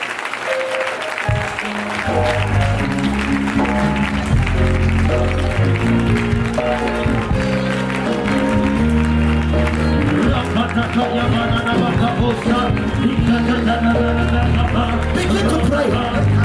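A revival congregation claps hands steadily during prayer, loud crowd clapping blended with music and voices throughout.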